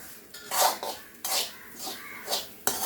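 A spoon scraping and clinking inside a metal cooking pot as lentil curry is stirred, in a home kitchen during food preparation for a family function; several separate scrapes come in an uneven rhythm, close and fairly quiet, with no talking.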